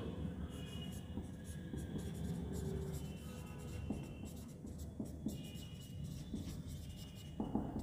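Marker or chalk scratches and taps in short irregular strokes on a board while a trigonometry lesson is written out, set against a low steady room hum with no speech.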